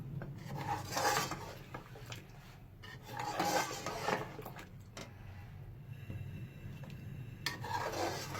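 Flour mixture being stirred into beef nihari in a pot, with a spoon scraping and clinking against the metal in several rhythmic bursts separated by quieter pauses, close and without speech.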